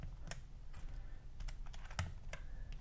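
Keys clack in quick irregular bursts on an iLovBee i61 budget keyboard fitted with thicker PBT keycaps, close and fairly quiet, with no talk.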